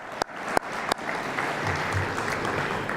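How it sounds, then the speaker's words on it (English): Banquet audience applause at a university appreciation dinner, starting with a few sharp separate claps that quickly swell into steady, dense clapping from a large room of people. "I think that deserves a round of applause"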